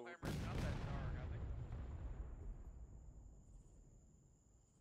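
A cannon fires in the Civil War video game War of Rights, one heavy boom that rolls and decays over several seconds, with faint voices around it.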